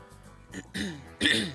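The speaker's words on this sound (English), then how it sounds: "I'm sorry that you've been hearing me cough around." A person coughs and clears their throat a few times close up, short harsh bursts separated by brief pauses.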